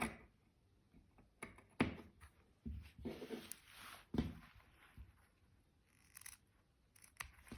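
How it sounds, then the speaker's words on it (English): Scissors snip fabric into the corners of a pocket opening on a bomber jacket, a few quiet, separate crisp cuts with rustling handling of cloth between them, close and soft. "we're going to cut down the middle and stop about 1 centimeter from the edge, and then cut into those corners"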